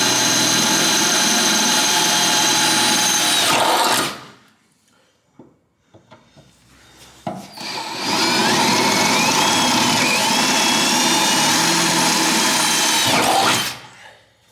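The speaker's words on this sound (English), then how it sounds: "Once I get it started with the step bit, I move to an 11/32 drill bit and finish out the holes." A power drill whines loudly as it bores holes in metal on a Fox-body Ford Mustang using an 11/32 bit, stops for a few seconds of quiet handling noise, then drills again in a long sustained run.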